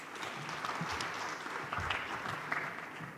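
Steady applause from an audience at a Kenyan private sector dialogue rises for the panelists, filling the room with dense, even clapping for a few seconds.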